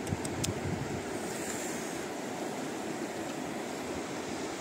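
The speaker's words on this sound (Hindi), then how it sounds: "भागीरथी नदी।" Icy Bhagirathi river near Gangotri rushing past, a steady broadband roar of flowing water with some wind buffeting, continuous and close, no voices.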